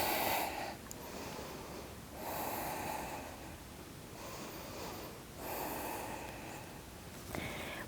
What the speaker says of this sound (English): Breathe 3 deep breaths.